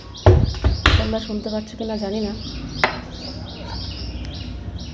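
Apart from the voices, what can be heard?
birds calling in the morning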